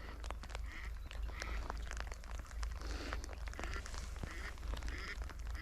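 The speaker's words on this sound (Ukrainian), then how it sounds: "качки десь кричать" Ducks quacking somewhere in the distance, scattered calls over a constant low rumble of wind or background noise.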